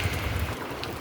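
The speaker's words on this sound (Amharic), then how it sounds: "ሐምሌ 10 እንግዲህ በዚህ መልኩ ጀምሯል ዝናቡ ማሻአላህ" Rain falls steadily on the first day of the rainy season, mixed with gusty wind, a dense continuous hiss with low rumbling gusts throughout and no voices.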